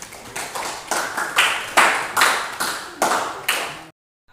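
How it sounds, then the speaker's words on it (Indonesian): Classroom applause comes as a series of about eight swelling bursts of clapping, each rising then fading, fairly loud and close, before stopping abruptly into silence. "Oke, aplaus untuk Riza"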